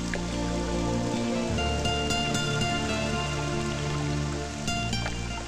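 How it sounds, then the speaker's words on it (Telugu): Steady rain falls through a Telugu film romance scene, with a continuous dense patter and drip close by and a tonal background sound running beneath it. "వర్షం ఇలాగే పడుతుంటే ఎంత బాగుంటుందో కదా"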